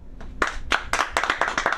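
A handful of audience members at a Los Angeles comedy show clap in scattered, uneven bursts, a short, close, uncoordinated smattering.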